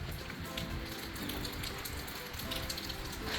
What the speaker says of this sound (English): It's a little bit rainy